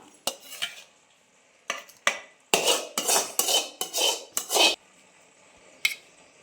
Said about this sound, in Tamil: இது ஒரு பாத்திரத்தில் மாற்றிக்கலாம்